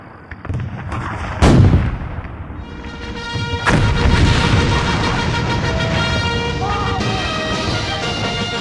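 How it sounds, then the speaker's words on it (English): Heavy cannon fire booms out in a Battle of Waterloo scene, one sharp blast followed by another, then a dense roar of continuing artillery and battle noise. "Let the French cannons shoot on their own."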